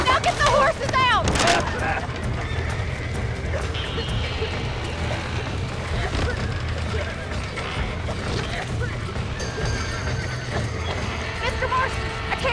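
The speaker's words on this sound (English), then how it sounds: "Now get the horses out!" Horses in the Red Dead Redemption game whinny and clop about amid a loud, busy mix, with a sharp neigh near the start and steady hoof and crowd noise under voices.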